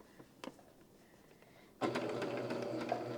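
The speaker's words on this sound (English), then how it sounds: "I'm going to sew my B's and D's into strips" A sewing machine stitches charm-pack quilt block pieces into strips, with a few light clicks and handling taps before the motor starts in a steady close whirring run that lasts to the end.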